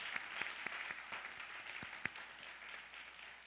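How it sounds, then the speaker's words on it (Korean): A church congregation at a university-ministry worship service claps for the worship team, a brief patter of scattered hand claps with a few sharp individual claps standing out, fading after about two seconds. "모든 예배팀들을 위해서 한번 우리 감사와 축복의 박수 보낼까요?"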